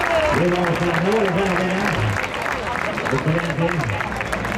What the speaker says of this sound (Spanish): Ovación de gala para el ganadero.